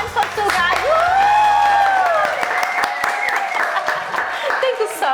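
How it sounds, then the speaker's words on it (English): An audience claps and cheers for a cancer survivor, with a dense run of applause and a high whoop, while a voice talks over it loudly near the start. "Clap your hands for Sue, guys."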